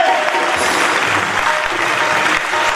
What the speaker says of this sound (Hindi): ताली बजाइए, पहली बार एयर इंडिया प्रॉफिट में आई है।